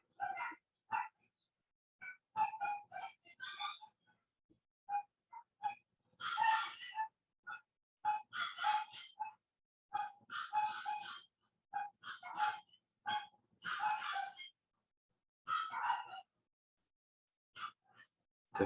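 Several dogs bark repeatedly in quick, uneven bursts, some yipping higher than others, from a short distance away, with silent gaps between volleys.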